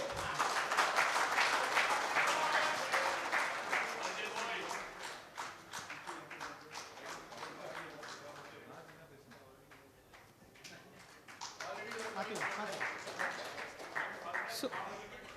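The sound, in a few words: audience applause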